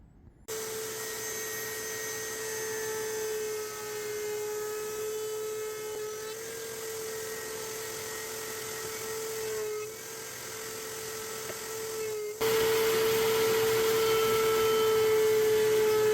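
A steady high-pitched whine of a power router running continuously, cutting a chamfer on wooden frame edges, with a slight shift in pitch and loudness partway through as it bites into wood.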